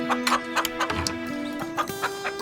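Chicken clucking nearby in short repeated bursts, a quick run of clucks and squawks over a constant background hum.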